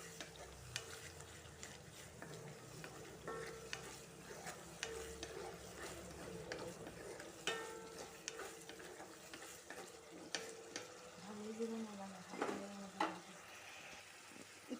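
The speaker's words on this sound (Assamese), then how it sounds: "খৰিচাখিনি দি দিলোঁ দি পেলাই অলপ লৰাই দিছোঁ" Fermented bamboo shoot sizzles and fries in a pan while a utensil stirs and scrapes through it, a steady close crackle with scattered clinks and ticks, no talking.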